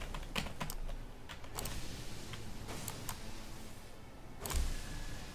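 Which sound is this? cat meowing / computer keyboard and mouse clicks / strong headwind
computer keyboard and mouse clicks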